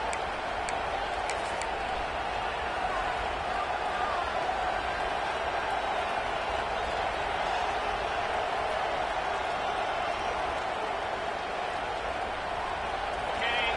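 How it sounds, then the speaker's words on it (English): A stadium crowd in the NCAA College Football 26 video game roars as a steady, loud wash that holds without letup throughout, with voices mixed into the din. "This crowd bringing the energy and noise early."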